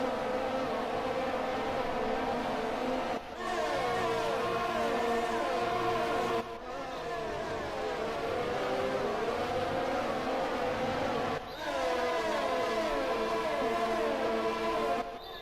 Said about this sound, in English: Just listen to them cars. I'm so amazed by their noise.